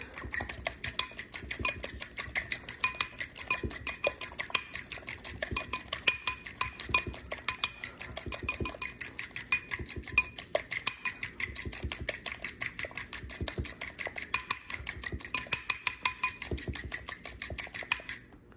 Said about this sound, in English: This is how they whisk an egg.